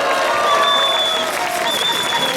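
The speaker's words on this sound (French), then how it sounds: "Alors je vous laisse faire un tonnerre d'applaudissements pour Jérôme Bergamy." Steady crowd applause at an outdoor patriotic rally in Paris, a close, continuous wash of clapping with a couple of sustained whistles riding over it for the short stretch.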